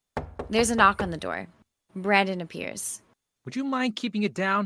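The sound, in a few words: knock on the door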